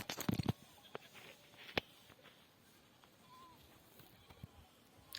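Mountain goats bleat faintly in an open outdoor setting in the Mersin mountains, a few short calls amid light rustling and distant background noise.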